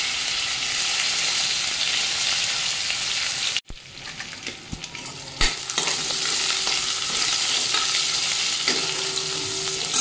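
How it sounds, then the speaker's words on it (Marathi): Onion, curry leaves and garlic hit hot oil with asafoetida for a bhendi curry, giving a steady loud sizzle. A sharp cut is followed by quieter frying with stirring clinks and scrapes. "आणि मी घालणार आहे हिंग आणि त्यानंतर आपण घालू कांदा, कढीपत्ता आणि लसूण."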